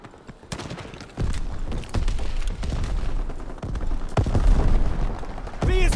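Gunfire and heavy booms rumble through a Call of Duty: WWII match, with sharp bursts landing over a dense, continuous battle roar that grows louder toward the end.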